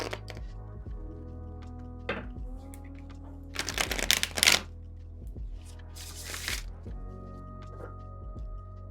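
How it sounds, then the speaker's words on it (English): A thin Kingdom of Snakes tarot deck is riffle shuffled in two quick, crisp bursts of fluttering cards, close and clear, over faint steady background music. "Because of how thin the deck is, it easily handles riffle shuffles."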